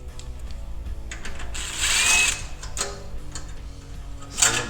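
A power tool whirs in short bursts, backing out bolts on a Dodge Challenger exhaust during a cat delete install, with ticking and ratcheting clicks between the louder spins, close up.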